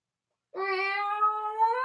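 A cat lets out one drawn-out, clear meow close by, rising then holding, in an otherwise quiet space after a short silence.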